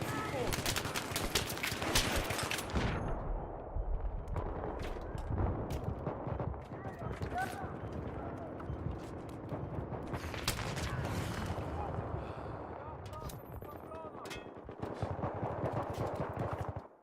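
Rapid automatic gunfire bursts crackle through a chaotic Battlefield 3 Conquest match on PS3, dense and continuous with scattered explosions, under ongoing talk.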